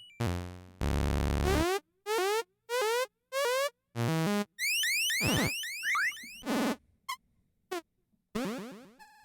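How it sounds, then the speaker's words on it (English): Commodore 64 program sound effects play one after another: buzzy tones, rapid rising and falling synth sweeps and zaps, separated by brief silences, loud and electronic. "It's just sound effects, but, I like it when my computer makes noise"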